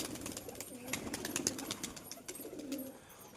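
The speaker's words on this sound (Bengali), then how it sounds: "আমি সব কবুতর ছেড়ে দিলাম" Pigeons coo softly in a new cage setup, their low murmuring calls continuing under scattered clicks and light rustling, close by and without voices.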